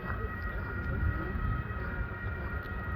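A metro train rumbles at a Berlin station on a snowy day, a steady low roar with a faint high whine, continuous and fairly distant.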